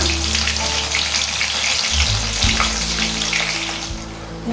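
Food fries in hot oil on a medium flame, a steady dense sizzle with crackling spatter. A dull thump partway through briefly disturbs the frying, and there is no talk.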